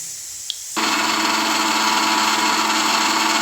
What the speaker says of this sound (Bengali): ধুয়ে নিয়ে আর মিক্সিতে বেটে নিতে হবে